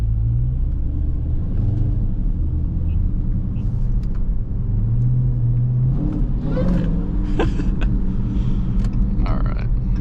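A Dodge Hellcat Charger's engine rumbling steadily from inside the car while driving, a deep continuous drone that swells a little as it pulls away.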